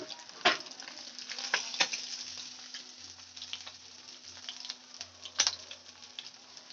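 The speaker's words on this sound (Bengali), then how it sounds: "মাছটা আমার দু পিঠি লাল করে ভাজা হয়ে গেছে" Pomfret fish frying in a pan, a quiet steady sizzle with scattered crackles and pops, a few sharper spits standing out, heard alone.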